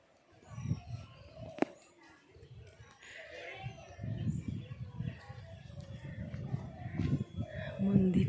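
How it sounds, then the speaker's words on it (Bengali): Birds call softly around quiet palace grounds beside a temple, with faint scattered chirps and a brief sharp click, under close conversational speech throughout. "শান্ত, শুধু পাখির ডাকের আওয়াজ শুনতে পাবে।"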